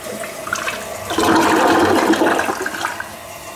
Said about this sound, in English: We're gonna flush it right here on camera.